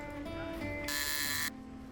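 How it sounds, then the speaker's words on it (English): An electric door buzzer on an abandoned building in the video game Shardlight gives one harsh, loud buzz of about half a second over a quiet tonal game background. "A buzzer."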